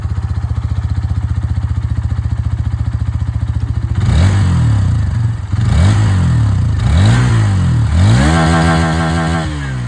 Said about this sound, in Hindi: दोनों ही यहाँ पर बाइक की जो एग्जॉस्ट साउंड है वो आप लोगों ने सुन लिया